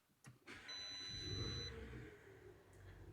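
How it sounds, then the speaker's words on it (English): A 2020 Audi SQ7 TDI's 4.0L V8 turbo diesel engine starts up after a quick crank and settles into a steady, fairly close idle rumble, with a couple of high electronic chimes sounding over it early on. "if we go ahead and start the car up"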